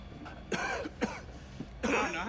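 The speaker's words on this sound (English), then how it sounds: "Stop coughing. He's like right there." A character in the horror video game The Devil in Me coughs in several harsh, separate bursts, fairly faint and close, with quiet pauses between them.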